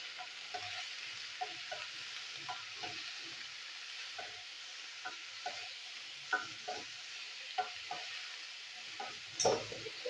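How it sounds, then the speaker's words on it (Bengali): Bitter gourd frying in oil makes a faint, steady sizzle, with soft scraping and tapping from stirring at irregular intervals and one louder knock near the end. "তো এবার আমি তেলের মধ্যে উচ্ছেটা একটু ভেজে নেবো"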